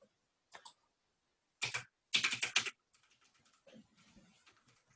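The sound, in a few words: computer keyboards clicking while typing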